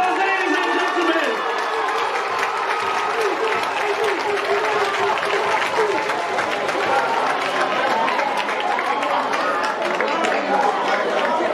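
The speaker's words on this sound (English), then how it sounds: "Give him a big round of applause, ladies and gentlemen!" Spectators at Jamaica's National Stadium applaud and cheer a sprinter after a fast 100m race, dense sustained clapping and crowd noise with an announcer talking over it.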